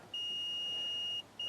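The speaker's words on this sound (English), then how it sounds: "so that makes a beeping noise" A continuity tester beeps with a steady, loud electronic tone while probing window wiring on a 2007 Dodge Ram 3500 truck, holding for about a second, dropping out briefly, then sounding again.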